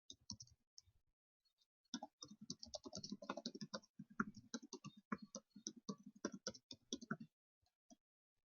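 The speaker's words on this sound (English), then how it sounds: "I'm just going to type, who's live with me?" Rapid typing on a computer keyboard, with bursts of quick, irregular clicks and short pauses, fairly close and alone with no talking.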